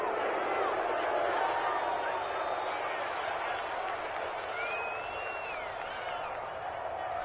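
A simulated stadium crowd in a PS4 football video game reacts to a penalty call with a broad, sustained murmur and jeering under continuous commentary from a speaking voice.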